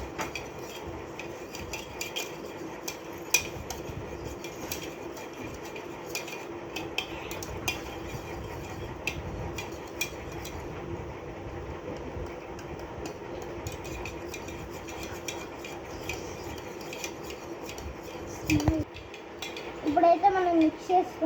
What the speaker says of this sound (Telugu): ఇప్పుడైతే మనం మిక్స్ చేసుకుంటున్నాం.